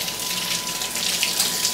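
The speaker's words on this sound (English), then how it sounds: "we're going to turn on this hot water" Hot water running steadily from a kitchen tap, a continuous close hiss and splash with no talk, with a faint steady tone underneath.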